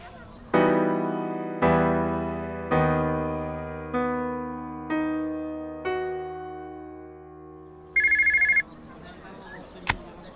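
A cell phone ring in a radio drama, a bell-like tone sounding five times at a steady pace, followed by a brief higher electronic chirp and a sharp click, with no voices over it.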